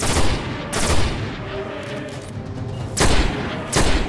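Assault rifle fire from the video game Destiny: loud, close bursts of rapid shots in two clusters, one at the start and another near the end, over a dense background of game noise.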